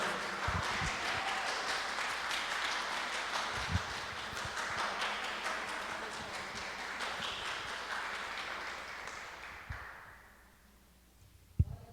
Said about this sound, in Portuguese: Aplauda bem forte ao Senhor em nome de Jesus